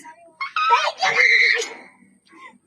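Women scream loudly together in a long, rising burst, then a short fainter cry follows near the end.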